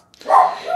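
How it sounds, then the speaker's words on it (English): A dog gives a single short bark indoors, close and fairly loud, with a brief tail of sound after it. "my dogs are barking"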